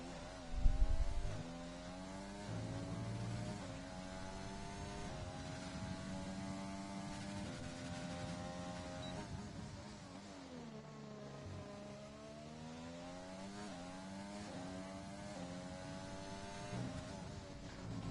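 A race car engine heard on board during a fast lap at Bahrain in a racing video game, a steady high-pitched whine rising through the gears with repeated upshifts, a dip on braking and a climb again, loud and without talk.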